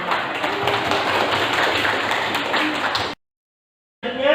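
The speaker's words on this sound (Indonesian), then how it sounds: "kita berikan aplaus dulu untuk kelompok 1 dan kelompok 2 yang sudah menambahkan" A classroom of students applauding presentation groups, dense continuous clapping that stops abruptly, followed by a brief silence and a new sound.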